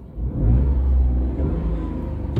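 A Tata Tiago hatchback pulls hard during a 0 to 100 acceleration run, its engine giving a steady low rumble and rising whir heard from inside the car, with no talking over it.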